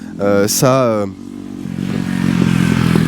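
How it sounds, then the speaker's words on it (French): A short vocal sound is followed by a 125cc motorcycle engine growing louder as it approaches and passes nearby. "c'est une 125 qui passe, donc c'est normal si ça fait un bruit de péteux"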